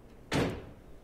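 A car door shuts in the driving game The Long Drive, a single short thump with a brief fading tail, fairly quiet and alone.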